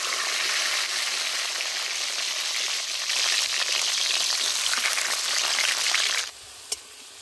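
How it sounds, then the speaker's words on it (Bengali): Potatoes fry in hot oil in a wok, a dense, continuous sizzle that holds for several seconds, then drops abruptly to a quieter hiss with a single sharp click. "এবার কড়ার মধ্যে তেল দিয়ে আলুগুলো ভেজে নেব।"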